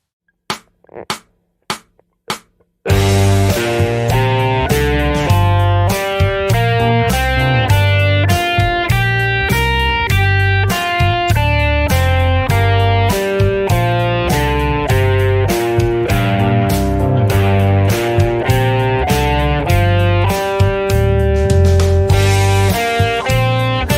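A distorted electric guitar solos in quick melodic runs on the minor pentatonic scale over a full backing jam track of drums and bass, after a few sharp muted strums at the start.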